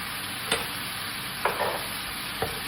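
Mutton sizzles and fries in a pan with a constant hissing bed of oil, broken by three brief scraping stirs of a spoon; close, steady and moderately loud, no voices.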